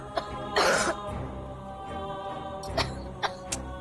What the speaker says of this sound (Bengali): কেউ একটু জল নিয়ে আসো, ও এত কাশছে।